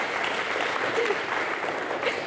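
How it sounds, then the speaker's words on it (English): Audience applause at a retrofit gathering at the Centre for Alternative Technology in Machynlleth, continuous dense clapping from a room of people, fairly loud and even throughout. "Could maybe give her a little round of applause."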